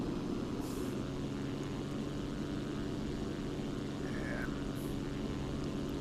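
A single-engine propeller aircraft in the X-Plane 11 flight simulator drones steadily and loudly throughout, with a constant engine hum and no break in the sound.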